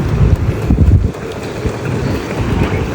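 Strong wind at a Maldives island resort buffets the microphone, a constant roaring rumble that surges and eases, loud and close, with no clear voices.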